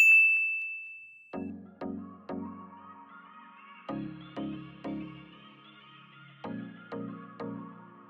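A bright notification bell rings out, followed by several clustered metallic dings in short groups, each chime sharp at the start and ringing down, clean and alone with no voices.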